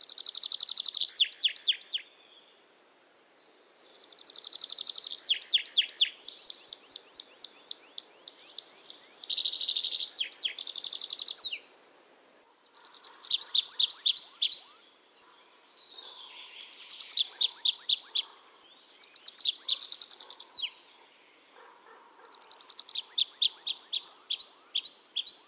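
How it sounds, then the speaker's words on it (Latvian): Several bursts of bird song heard in a Latgale nature reserve: bright, high chirping phrases repeated in clear bouts separated by short pauses, close and distinct, with no talking. "tā dziesma ir tāda, kas ir jāklausās vairākas reizes, lai viņu varētu atšķirt no citu putnu dziesmām"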